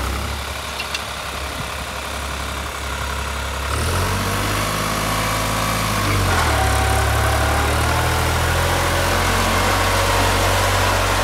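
A New Holland 5620 tractor engine runs steadily at close range, a loud low diesel drone that rises in pitch and intensity partway through as the revs climb, then holds at the higher speed.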